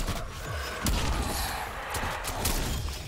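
Rapid gunfire while shooting a zombie in Call of Duty Black Ops Cold War, with dense, continuous bursts of shots and impacts filling a short stretch of loud game audio.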